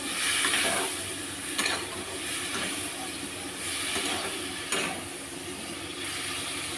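Fried taro and shrimp curry is stirred in a pan, giving a steady low sizzle with occasional scraping strokes at spaced intervals. The sound is fairly quiet, with no speech.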